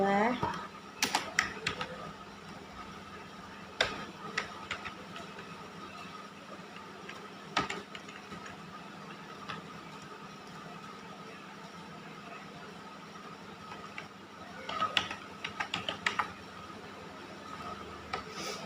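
Python code being typed on a computer keyboard, with scattered clusters of quiet, close key clicks separated by pauses and a steady background hum.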